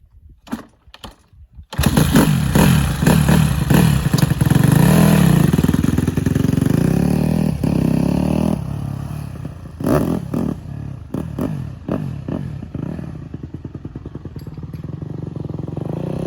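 A Honda CRF150R dirt bike with loose valves and no coolant fires up after a few sharp knocks, runs loud and raspy with a rising rev, then settles into a lumpy, slightly uneven idle.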